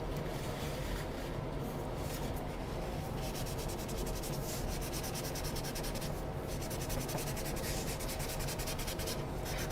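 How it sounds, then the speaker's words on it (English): Tissue paper rubs across a pencil drawing on paper to blend graphite, a faint, continuous close-up scrubbing hiss with a quick back-and-forth texture, heard alone. "I'm gonna blend it with a tissue paper this time."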